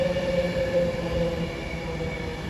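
An Avanti West Coast Class 390 Pendolino, unit 390 151 running in reverse formation, arrives at Milton Keynes Central on the West Coast Main Line, a steady rolling rumble with a sustained wheel tone close by.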